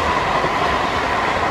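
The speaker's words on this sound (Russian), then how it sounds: "Поезд." A train rolls past close by in Italy, a loud steady rumble and rush of wheels on rails with no talking.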